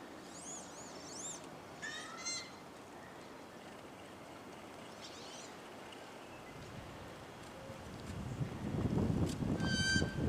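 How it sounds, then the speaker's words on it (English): A duck gives odd, nasal, honking calls outdoors during a Kansas turkey hunt. Several short bursts of calls come at a distance, with quiet gaps between them, and there is a louder rustling rumble near the end. "Isn't that the weirdest duck sound you ever heard?"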